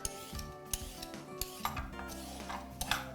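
A carrot is grated by hand for a broccoli recipe, heard as short scraping strokes against a metal grater with sharp clinks, fairly close and quiet, in an irregular rhythm with no talking.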